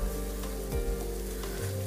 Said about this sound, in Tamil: ஸோ நம்ம இந்த ஆனியன் இதை வந்து கொஞ்சம் வதக்கிட்டு நம்ம கொஞ்சம் ஃப்ளேவர் வெளியே வர மாதிரி பண்ணிக்கணும்.